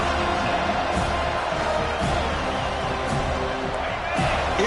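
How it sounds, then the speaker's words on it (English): A stadium crowd at a Michigan versus Florida State college football game roars as a steady, dense wash of noise, with occasional louder swells and thumps rising out of the constant din. "this crowd is fired up. Listen to this noise here"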